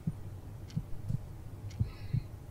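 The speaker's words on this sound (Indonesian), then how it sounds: "Terus kamu dengerin detak jantungnya. Ini adalah detak jantung aku." A human heartbeat heard from close against the chest, soft low thumps arriving in regular paired lub-dub beats about every second, alone over a faint background hum.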